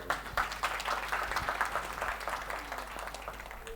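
Audience applause fills a business interview setting, a dense, moderately distant patter of many hands clapping steadily throughout, without talk.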